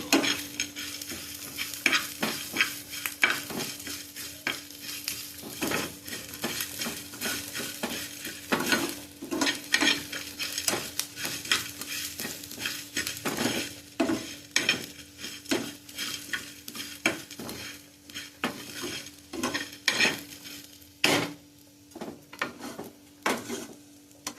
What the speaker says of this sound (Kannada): ನಮಗೆ ಚೆನ್ನಾಗಿ ಫ್ರೈ ಮಾಡಿ ಪರಿಮಳ ಬರಬೇಕು ಕರಿಸಿ ಹೋಗಬಾರ್ದು